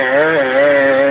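A Kawasaki KDX 220 dirt bike engine strains loud and close in third gear while climbing a steep hill, holding a steady buzzing drone that rises slightly in pitch.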